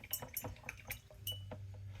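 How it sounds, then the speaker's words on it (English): A paintbrush is swished and tapped in a small container of water for mixed-media painting, giving soft close splashes and light clinks of the bristles and handle against the container, quiet and irregular, with no speech. "I'm going to add a little water to my brush."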